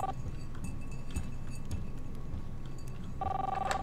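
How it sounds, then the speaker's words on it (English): A telephone rings in the video game Life is Strange, a brief ringing tone that comes in clearly toward the end over steady background game ambience. "Phone rings."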